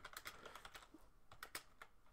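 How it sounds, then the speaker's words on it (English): Computer keyboard typing, with a rapid irregular run of light plastic key clicks at close range, fairly quiet, with no voices. "You'll hear a little bit of clicking. We'll see how loud the keyboard is."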